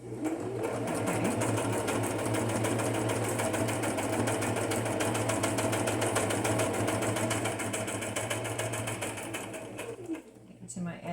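A sewing machine stitches through paper and card for a junk journal, with a fast steady mechanical whir and rapid needle ticking, close and continuous for about ten seconds before slowing and stopping, with someone talking over it.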